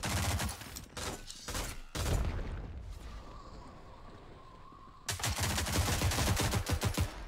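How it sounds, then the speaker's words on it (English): Gunfire in the video game Rogue Company crackles in rapid bursts of automatic shots, pauses into a quieter lull, then returns as a dense, sustained volley of close, loud fire. "That was one shot on the left."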